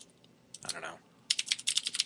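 Someone types code on a computer keyboard: a short burst of keystrokes, a brief pause, then a fast run of close, crisp clicks, quiet and without talk.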